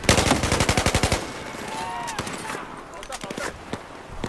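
Gunfire in Battlefield 4: a rapid machine-gun burst of about a dozen evenly spaced loud shots, then scattered single shots and distant bangs with someone talking over them.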